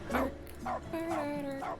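A dog in the video game Stanley's Deluxe 2 gives several quiet, tonal barks and yips in a loose rhythm, with a steady low background hum.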